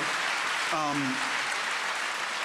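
Audience applause at a talk with two opinion columnists, a steady broadband clapping wash filling the clip, with a brief voice cutting through partway.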